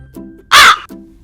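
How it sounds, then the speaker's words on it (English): A single loud crow caw, harsh and close, stands out between quieter low background sounds in an animal sound lesson. "This is a crow. What sound does a crow make?"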